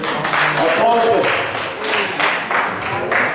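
An audience at a debate on enforcing the US Constitution breaks into applause, an uneven clatter of clapping rising and falling around the room.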